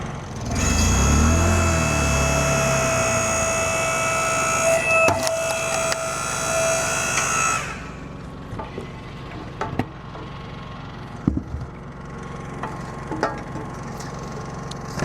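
Gas-powered Harbor Freight log splitter run off a generator, a loud steady engine drone with a rising whine for several seconds, then cutting to quieter hum with sharp wood cracks and clunks as logs split.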